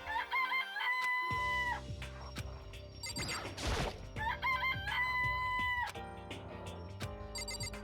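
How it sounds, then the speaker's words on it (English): Cartoonish chickens cluck and a rooster crows in the video game Danganronpa, with bright chiming jingle-like effects layered over them in a busy, loud sequence and no voices. "Oh, you like chickens too, Makoto?"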